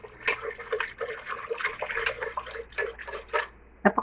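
Water heating in a pot toward a boil gives irregular bursts of bubbling and splashy gurgles, moderately close, in uneven clusters with short quiet gaps, and no voices.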